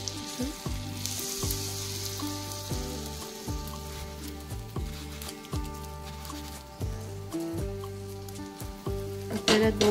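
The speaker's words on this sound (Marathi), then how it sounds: "आपल्याला दोन्ही साईड चांगल्या फ्राय करून घ्यायचे." Dabeli buns fry in butter on a hot pan, turned to crisp both sides, giving a steady close sizzle broken by repeated clunks and scrapes of a spatula and a few tonal clatters.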